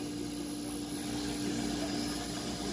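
The spindle of a Kellenberger grinding machine turns with a steady, low mechanical hum and a faint constant whine, an unbroken and fairly quiet drone with no talking.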